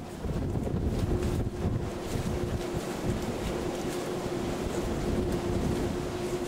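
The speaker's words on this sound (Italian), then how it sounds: "Pioggia mista neve cade trascinata da raffiche di vento" Gusty wind drives mixed rain and snow outside the gates of Auschwitz, a steady, loud rushing roar buffeting the microphone for the whole stretch, with no voices.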